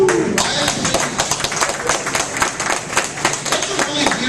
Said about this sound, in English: That's a really weird thing to applaud for